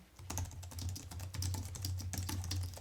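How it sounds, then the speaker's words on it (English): Rapid, soft keystrokes clatter steadily on a Logitech K580 wireless rubber dome keyboard close up, a muted, continuous stream of typing. "here's a little test for you guys so y'all can see what the keyboard actually sounds like when you're typing on it"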